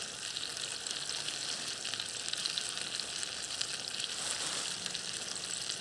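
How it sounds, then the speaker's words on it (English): Frozen peas sizzle in a hot pan with leeks, a steady bright crackle and hiss holding at an even, close level. "So the next thing we're going to do is add our peas. These are just frozen peas."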